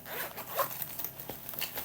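A zipper on a needle case is drawn open in a quick, close rasping run lasting under two seconds, with no talking over it.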